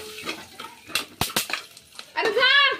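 Popcorn with turmeric and salt being stirred in a metal pan, a few sharp scraping and clinking knocks of a utensil against the pan, close and fairly loud, broken by someone talking between strokes.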